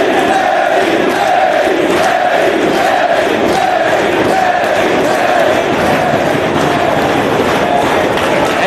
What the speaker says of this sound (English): You hear this crowd supporting Fast Eddie.